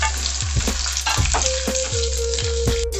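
Onion, ginger and green chillies frying in oil for mutton sambar, a loud continuous sizzle with rhythmic clanks and scrapes of a ladle against the pan and a brief ringing tone partway through.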